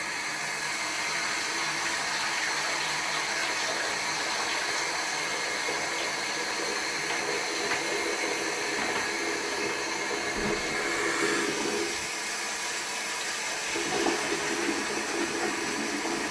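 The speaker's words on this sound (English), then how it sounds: "So I'm going to run some hot water and I'm going to put the detergent in" Hot water runs steadily from a tap for a shifty, continuous rushing hiss that fills the space evenly, with no voices and only slight changes in flow near the end, as it is drawn for soaking shibori scarves with detergent.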